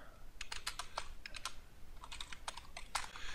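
Computer keyboard clicking as code is typed during live programming, a steady run of quick close keystrokes in short bursts with brief pauses, no voices.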